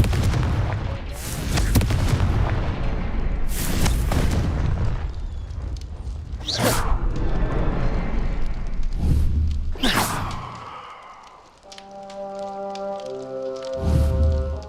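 Confringo fire spell explosions in the Hogwarts Legacy video game, several loud booming blasts spaced across the scene with rumbling tails, followed by a brief chiming magical tone near the end.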